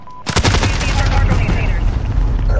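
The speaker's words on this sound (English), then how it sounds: "It's a little bitty gun. It's a little modified, a little 9mm." A small modified 9mm gun fires in Call of Duty: Modern Warfare, a sharp opening crack followed by a sustained, loud stream of rapid shots and reverberant battle noise.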